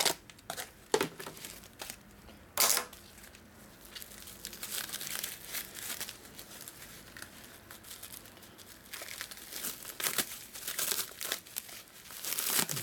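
Crinkling and crumpling of a military surplus bag as it is opened to unwrap an NOS clutch basket bearing race for a 1930s–40s 45 RL/WL/WR motorcycle, in sharp close bursts with quieter rustling between.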